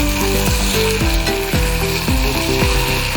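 Ivy gourd is stir-fried in a pan for kovakkai poriyal, with a loud steady sizzle and rhythmic scraping strokes of the spoon about every half second, close up and without talk.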